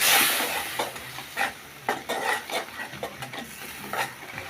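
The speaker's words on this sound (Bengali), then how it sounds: "বন্ধুরা, আমরা এখন কষাই নেব, 3 থেকে 4 মিনিট এগুলো কষাই নেব।" Spices with cumin and coriander powder being sautéed in a pan with a little water for egg bhuna, a low sizzle broken by rhythmic spatula scrapes and clinks against the pan.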